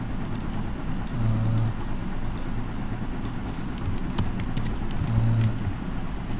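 Computer keys click in irregular light taps while building a mind map on a PC, a handful of sharp presses scattered over steady background hum, with no talking.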